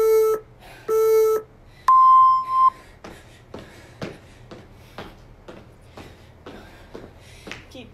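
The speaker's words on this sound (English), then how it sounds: "My timer's gonna turn off again." A workout interval timer beeps twice in short bursts, then once in a longer tone, during a dance-team jumping-jack workout. Soft rhythmic thumps of feet follow.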